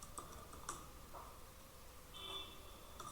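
A computer keyboard typing a search query into Google, a few faint scattered clicks and taps over a quiet background hiss, with a brief soft electronic tone midway.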